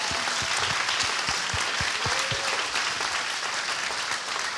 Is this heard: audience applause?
yes